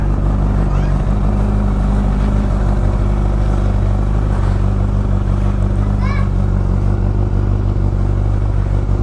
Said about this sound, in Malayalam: വണ്ടി ഒന്ന് ബാക്ക് എടുത്താട്ടെ കേട്ടോ.